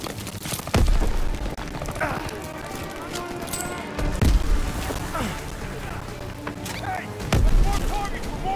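Grenade blasts in Call of Duty: WWII, with three heavy booming explosions spaced a few seconds apart over constant battlefield noise and gunfire. People talk between the blasts.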